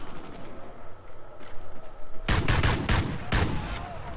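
Automatic gunfire in the video game Call of Duty: Ghosts, Gun Game mode: quiet ambience for two seconds, then a loud burst of rapid shots with a few short pauses, and no talking.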